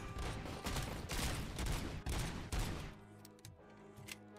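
Rapid gunfire in the video game Robocop: Rogue City, with a dense burst of loud overlapping shots for about three seconds followed by a few scattered sharper shots over a low steady game background.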